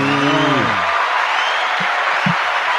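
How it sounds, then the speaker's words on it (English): A studio audience gives a round of applause to welcome a guest, a steady clapping wash that follows a brief falling voiced sound at the start, with a couple of short vocal bursts above it. "give a round of applause to my guy, Cheeky Banter."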